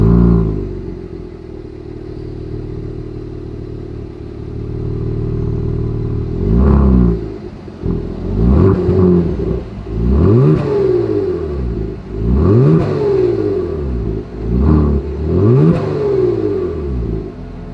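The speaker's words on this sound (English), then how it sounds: "As always, here is that exhaust clip." A 2021 Genesis G70's exhaust idles steadily, then gets blipped into several sharp revs in a row, each climbing and falling back close up, with no talk over it.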